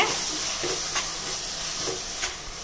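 Masala and tomato sauteing in a pan for meal maker biryani, a soft steady sizzle with a few scraping stirs of a spoon, close and fairly quiet with no talk.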